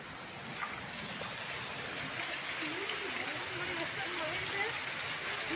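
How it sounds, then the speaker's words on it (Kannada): Heavy rain pours down during flooding in Bangalore, a dense, continuous hiss of falling water and running streams with a faint voice murmuring underneath. "ಈ ತರ ಮಳೆ ಬೀಳ್ತಿದೆ ಬೆಂಗಳೂರಲ್ಲಿ"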